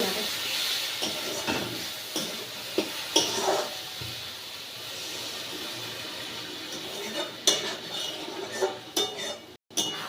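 A small splash of water poured into a pan of simmering prawn and fish curry with potatoes, a steady hiss and sizzle throughout, with scattered metallic clinks of a utensil against the pan and a sharp burst near the end.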